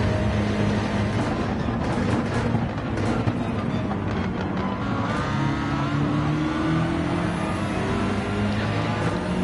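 A Lamborghini GT race car in a racing game roars steadily at high revs, the engine note rising through gears with other cars buzzing close by, loud and continuous throughout.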